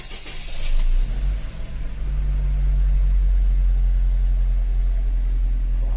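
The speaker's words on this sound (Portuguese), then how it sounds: "Vamos dar uma partidinha pra ver." A Chevrolet Cobalt 1.8 running on ethanol starts cold on a 23-degree morning, with a brief starter crank followed by the engine settling into a steady, loud low idle close by, with no talk.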